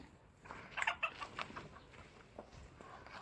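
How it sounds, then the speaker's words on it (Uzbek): Roosters cluck and squawk in short, clustered bursts at moderate distance, quieter scattered calls following, with no talking. "Bu xo'rozlarimiz, butunlay xo'rozlar."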